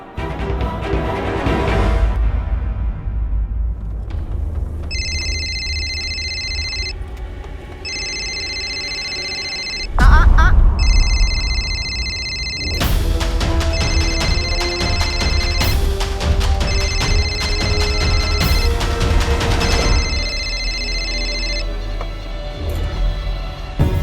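A telephone rings in repeated electronic bursts, the pattern recurring several times across the scene under dramatic background music and effects, with a loud hit partway through.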